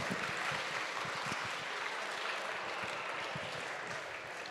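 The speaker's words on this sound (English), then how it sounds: "Guys, let's give them a massive round of applause." Steady applause from an audience welcoming a startup pitch team onto a stage, dense and even throughout, easing off slightly at the end.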